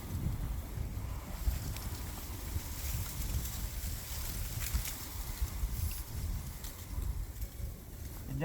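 Wind gusting steadily through a campsite at the Killiansburg Caves beside a tarp shelter pitched on two hiking sticks, a constant low rushing roar with buffeting against the microphone and no speech.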